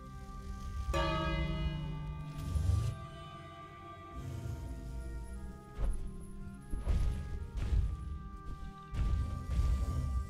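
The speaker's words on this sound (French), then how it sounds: "pourquoi il y a une cloche?" In the King's Quest video game, a resonant bell rings several times, clanging with lingering metallic tones amid thumps and heavy knocking sounds, fairly loud and close.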